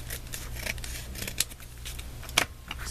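Scissors trim a recycled paper envelope folder in a few crisp snips, with two sharp cuts standing out above a steady low background hum.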